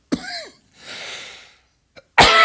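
A person coughs several times in short, harsh bursts with pauses between them, close and fairly loud, with no talking.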